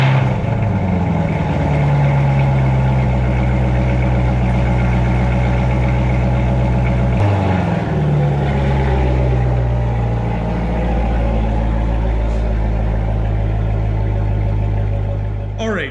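A C7 Corvette cold-starts and settles into a loud, close, rumbling high idle, its engine note dipping briefly around the middle and then holding steady before easing slightly toward the end.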